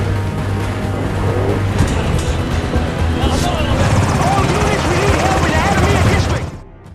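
A US special forces helicopter arrives in an Iraq war film scene, its dense rotor and engine roar running steadily and loud throughout, mixed with other action sound and voices, before cutting off near the end.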